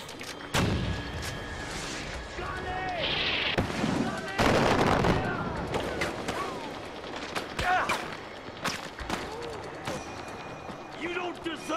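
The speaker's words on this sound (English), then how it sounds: "Oh shit, we got mortars." Mortar fire in the Far Cry 4 battle at King's Bridge, with repeated booming impacts and scattered gunshots, near and far, under excited talk throughout.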